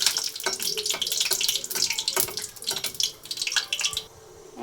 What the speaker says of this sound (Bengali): তেল গরম হয়েছে, এখন প্রথমে আমি দিয়ে দিব শুকনো মরিচ।